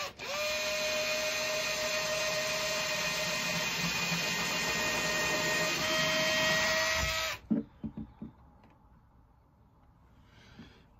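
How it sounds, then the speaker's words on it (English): A cordless battery drill drives screws into boards in a garage, running in a long steady whine for about seven seconds before stopping, followed by a few sharp knocks and handling clatter nearby. "this battery drill has had its day"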